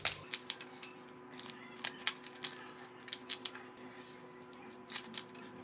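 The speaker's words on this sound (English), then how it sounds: "Use the scissors to cut it." Kitchen scissors snip through tofu skin in a string of crisp, close metallic clicks, spaced irregularly with short pauses between cuts over a faint hum.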